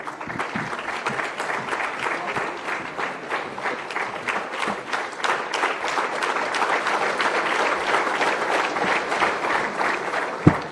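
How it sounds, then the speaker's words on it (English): A crowd at a public event attended by Andhra Pradesh Chief Minister Chandrababu Naidu applauds steadily for about ten seconds, a dense wash of clapping that holds at a loud, even level. "A round of applause, please, ladies and gentlemen."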